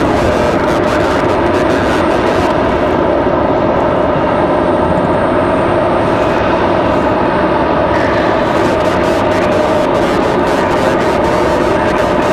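A Copa Airlines airliner departing Raleigh-Durham for Panama City fills the air with a loud, sustained jet roar and rumble, broad and steady, with brief fluttering texture and no speech.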